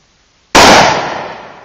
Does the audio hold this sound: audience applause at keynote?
no